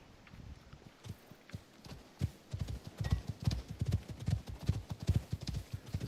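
Rhythmic clip-clop of horse hooves walking at a steady pace in the video game Icarus, growing louder and closer, with a faint ambient hiss behind.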